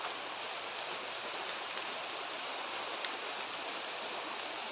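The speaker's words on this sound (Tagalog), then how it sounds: "umuulan na ngayon" Steady rain falls outdoors, a dense, even hiss of drops that holds at a constant level throughout with no voices over it.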